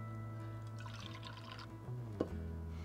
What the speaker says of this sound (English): I will carefully pour it back in the measuring cup